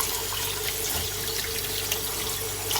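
Cold tap water runs steadily into a kitchen sink for washing during cooking, a continuous close splashing hiss with no talk over it.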